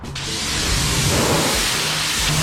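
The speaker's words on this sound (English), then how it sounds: "That electric power washer is like 80 times better than mine already." An electric power washer sprays water in a loud, steady hiss that starts abruptly and holds close and strong for a couple of seconds.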